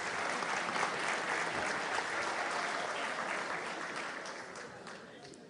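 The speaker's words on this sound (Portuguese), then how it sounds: "Salva de palmas." Audience applause at a web security forum lecture, a steady, fairly distant wash of clapping that slowly tapers toward the end.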